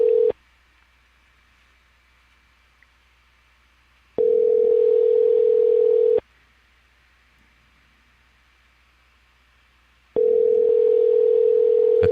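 A telephone line tone comes through a handset as a steady pitch in three two-second bursts separated by about four seconds of near silence.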